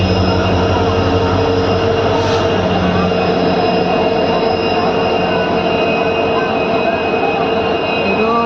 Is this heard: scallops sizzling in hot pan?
no